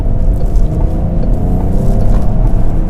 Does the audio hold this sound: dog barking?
no